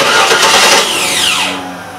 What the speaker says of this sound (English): So let's go ahead and start the car.